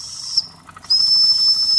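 A Wilesco D5 model steam engine sounds its whistle up close: a loud, high, steady shriek with steam hiss, cut off briefly after a short first burst, then blowing continuously to the end.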